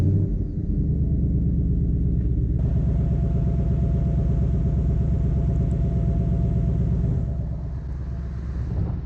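A 2019 Ford Mustang GT Bullitt V8 fires up and settles into a deep, steady rumbling idle, close and continuous with no talking.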